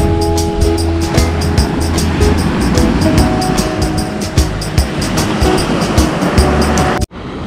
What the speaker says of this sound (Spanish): Vamos a mostrarles un poquito el mar de Palomino. Las olas.